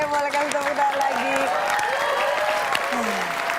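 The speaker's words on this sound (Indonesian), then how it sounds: "Oke, boleh kasih tepuk tangan lagi." A studio audience at an Indonesian TV quiz show claps steadily and loudly, with cheers and talk mixed into the applause.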